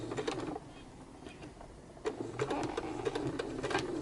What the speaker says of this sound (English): So I am moving this fabric while I'm sewing and moving